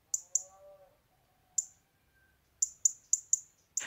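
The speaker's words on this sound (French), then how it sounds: "le rouge-gorge qui lâche des chip-chip ou tic-tic répétitifs" Sharp, repeated tic-tic calls of a European robin, several short bursts, a few spaced apart and then a quicker run near the end, with a faint lower warbling phrase in between and no talk.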